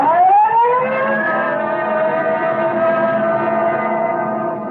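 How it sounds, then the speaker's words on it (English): A police car siren wails steadily, rising at first and then holding a sustained high tone, loud and continuous throughout. "Code 3, red light and siren."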